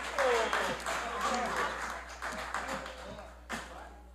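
Applause in a municipal council chamber during a plenary session tribute, moderate clapping that fades unevenly, mixed with voices speaking over it and a steady low hum beneath.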